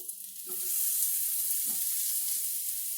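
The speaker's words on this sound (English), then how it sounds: "I'm going to go ahead and start the onion cooking in that" Thin-sliced onion fries in reserved grease with a steady, bright sizzle that swells after a soft drop and keeps going, close and fairly loud, along with a few faint stirring bumps.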